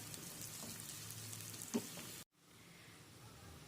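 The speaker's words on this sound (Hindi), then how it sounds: "अब आपने इन्हें भी फ्राई करना है और अब हम इसे इतना कुक करेंगे कि ये जो प्याज है हमारी हल्की सी सॉफ्ट हो जाएं" Sliced onions frying in a pan give a soft, steady sizzle with a faint stir partway through, then the sound cuts off abruptly and a quieter sizzle resumes.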